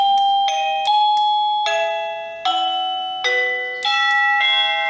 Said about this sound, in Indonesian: Lonceng.